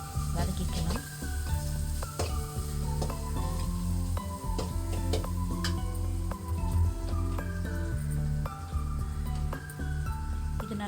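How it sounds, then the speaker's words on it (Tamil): Onions and ginger-garlic paste sizzle and crackle in hot oil, with intermittent stirring clinks and taps from a utensil against the pan. "கொஞ்சமாக இஞ்சி பூண்டு பேஸ்ட், இது ரெண்டுத்தையும் நல்லா கலக்கி வதக்கிக்கலாம்."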